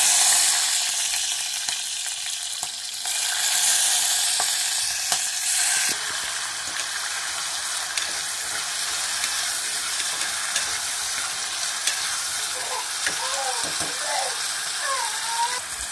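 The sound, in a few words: cinnamon and cloves sizzling in hot oil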